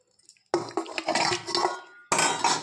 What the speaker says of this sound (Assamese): এতিয়া মই এইখিনি কুকাৰত দিম।